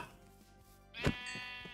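One Minecraft sheep gives a single wavering bleat midway, fairly clear against quiet game background.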